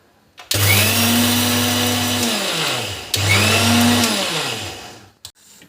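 Mixer grinder whirring loudly as it grinds roasted coconut, two long bursts of motor roar with a short pause between them, ending in a brief rattle.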